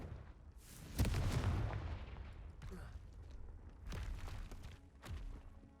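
The Confringo explosive spell cast in Hogwarts Legacy, a deep booming blast around the one-second mark that rumbles away. Fainter thuds and impacts follow later, all fairly quiet and distant-sounding.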